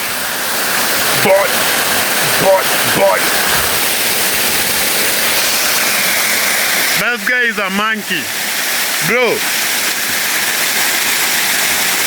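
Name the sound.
waterfall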